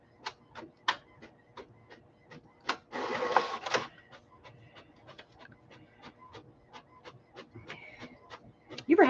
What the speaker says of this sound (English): So I'm using the other printer so it doesn't shake your world.